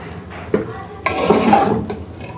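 Chicken and green beans get stirred in a pressure cooker after it whistles, a close, loud scraping and clattering of a spoon against the metal pot in a couple of strokes over soft sizzling, with no talking.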